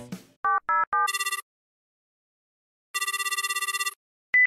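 Telephone line sounds during call setup: a few quick dialing beeps, then a buzzing ring burst, a pause, a second ring burst and a short final tone, clear and close with no talk.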